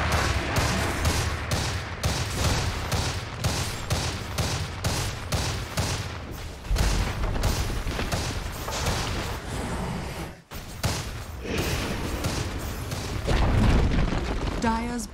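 A tower in the video game Dota 2 comes under attack and falls amid a rapid barrage of game gunfire and booming impacts. The dense, loud volleys continue nearly without pause, briefly dropping out once midway.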